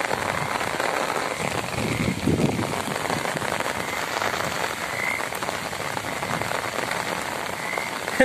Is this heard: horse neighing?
no